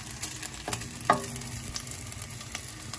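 Oil sizzles and crackles steadily in a pan, with a few sharper pops and faint clinks standing out from the hiss.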